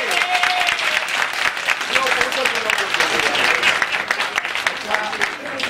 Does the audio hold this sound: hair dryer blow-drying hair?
no